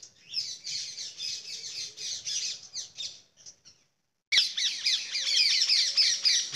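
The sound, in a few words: parrots squawking while eating guavas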